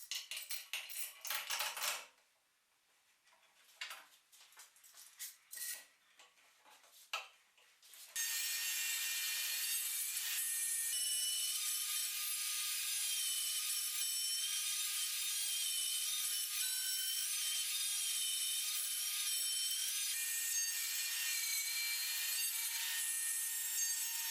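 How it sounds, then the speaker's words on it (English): A Pantorouter joinery machine cuts mortises in wood. Scraping and rubbing come first in short uneven bursts, then a steady, loud high-pitched router whine runs continuously to the end. "Now I set up the Pantorouter to cut the mortises."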